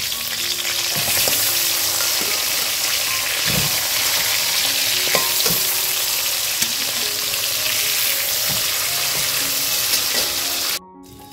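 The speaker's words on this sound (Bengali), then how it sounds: "বাকি যে 3টে মাথা ছিল সেটা আমি একই রকমভাবে ভেজে নেব" Hilsa fish heads fry in hot oil with a steady, close sizzle, punctuated by occasional stirring clatters and scrapes, before ending abruptly in silence.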